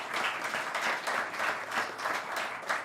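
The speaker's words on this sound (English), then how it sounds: "Y'all can give him some applause" An audience at a live music session applauds steadily throughout, a dense, sustained wash of clapping from a crowd with no speech over it.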